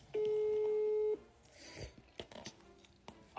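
A single steady phone tone sounds for about a second at the start of a call being placed, followed by faint rustling and handling noise.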